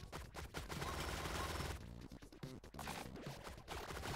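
Rapid bursts of gunfire from the shooter video game Relic Hunter Zero, dense overlapping shots with a backing game soundtrack, quiet overall, mostly alone without talk.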